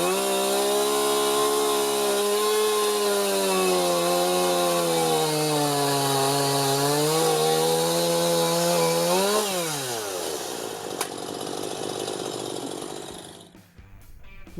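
A chainsaw runs hard and close while cutting wood, its loud engine drone holding steady and then rising in pitch as the cut finishes, easing toward idle with a few clunks at the end.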